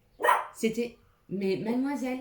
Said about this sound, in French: j'ai mon petit chien Cannelle qui s'exprime